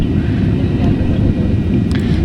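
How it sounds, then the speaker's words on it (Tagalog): A passenger airplane climbs away on takeoff for Cebu, its loud, steady engine roar heard from inside the cabin, with a voice speaking faintly beneath it. "ayun lumipad na rin sa wakas medyo nakakatakot ang pag-angat ng eroplano guys"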